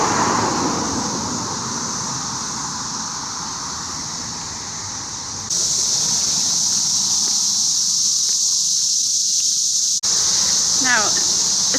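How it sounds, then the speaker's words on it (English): Loud cicadas in Middle Tennessee during a mass emergence keep up a steady, high, buzzing drone throughout, with faint rustling and distant background noise beneath. "I can hear the cicadas through my headphones."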